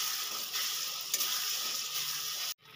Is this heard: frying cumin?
yes